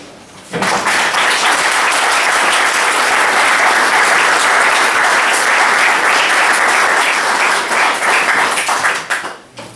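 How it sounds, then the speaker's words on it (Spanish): Loud, dense applause from a conference audience welcoming the speakers to a Falange talk, starting abruptly and holding at full strength for about nine seconds before tapering off at the end. "un aplauso"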